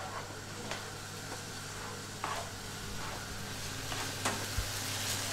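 Meat pie filling for Nigerian meat pie simmers in a pan with a soft, continuous sizzle, broken by several faint scraping stirs of a utensil.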